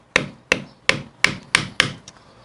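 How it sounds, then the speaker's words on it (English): A small chisel taps the lock tabs on the primary drive of a 1965 Harley-Davidson Panhead, striking metal six times in a close, evenly spaced series of sharp knocks with no talk. "Use a little chisel here."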